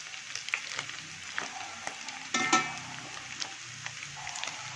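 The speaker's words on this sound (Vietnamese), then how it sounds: "lúc này ta phải đảo đều một lúc liên tục, vàng đều nha nha" Pork sizzles in oil in a small pan, a steady crackling hiss broken by the scrape and clatter of stirring, with one sharper clank partway through.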